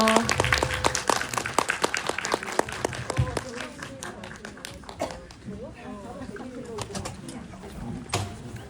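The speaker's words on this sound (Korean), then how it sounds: "박수 치면서 마무리하겠습니다" An audience at an indie film talk with an actress and director claps in a burst of sharp, close hand claps that thins out after a few seconds, leaving voices talking over a quieter room.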